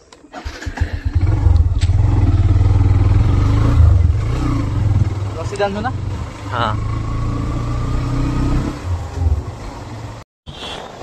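A motorcycle engine rumbles loudly and steadily, heading out toward Bhadrak, with a low drone and some revving under short bits of nearby talk.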